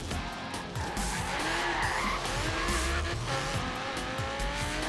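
In the Forza Horizon 3 racing game, a car brakes before a jump and its tires squeal and skid continuously over the loud, steady roar of the engine.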